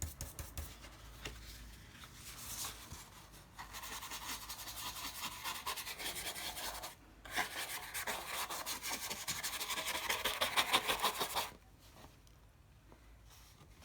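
A loaded oil-paint brush is dabbed and dragged against a rag or newspaper, giving a close, steady rubbing and scuffing in long sustained strokes with brief pauses between passes.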